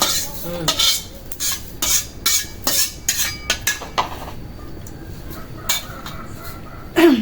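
A utensil scrapes and clanks around a metal kadai in irregular strokes, close by, stirring frying cumin with a faint sizzle underneath.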